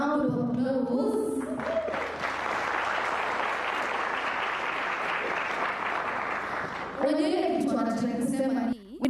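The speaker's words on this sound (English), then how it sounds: "We can do a better round of applause." An audience claps in a broad, steady wash of applause at a democracy and human rights festival in Nairobi, with amplified speech before and after it.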